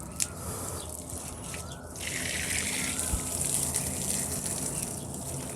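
Hot, dirty water drains out of a tank being cleaned, a steady rushing and trickling flow that runs throughout and swells slightly about two seconds in, with no voices.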